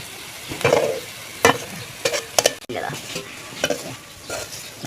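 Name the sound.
onion frying in a pan until golden brown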